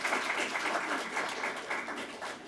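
Audience applause fills a county council meeting room, a steady, moderately loud wash of clapping from a gathered crowd lasting the whole moment.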